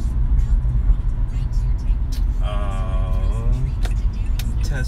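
A car driving in Los Angeles traffic, a steady low road and engine rumble heard from inside the vehicle, with a short electronic tone sounding briefly partway through.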